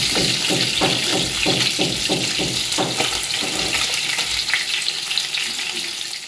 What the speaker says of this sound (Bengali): তো চলো মাছগুলো ভেজে নামিয়ে নিই।